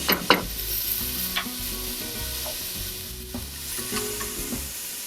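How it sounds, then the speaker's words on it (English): Onions sautéing in a pot for vegan tortilla soup, a soft continuous sizzle broken by a few scraping stirs of a utensil against the pot, close and fairly quiet with no talking. "Let that cook a little bit and the onions really start to soften."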